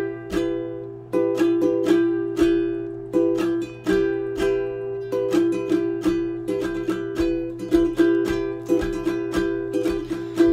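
Ukulele strummed in a steady folk pattern for a song, played slowly with repeated chord strokes in an even rhythm, close and clear with no talking.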